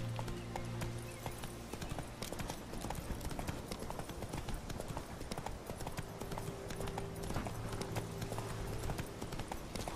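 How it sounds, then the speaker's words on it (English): Rapid, steady hoofbeats of a horse galloping continuously in The Witcher 3, loud and close, over a constant backdrop of game music and ambience. "Thank God my horse didn't run away."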